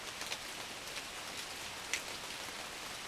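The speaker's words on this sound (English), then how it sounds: "you can see it's raining." Steady rain falls outdoors on a cold evening, a faint, even patter of drops with a few slightly louder taps and no voices.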